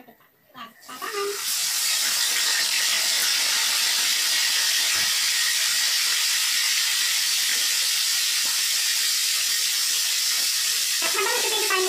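Fish dropped into hot cooking oil in a pan for a simple Filipino dish, bursting into loud, steady sizzling and spattering that holds continuously after a brief quieter start.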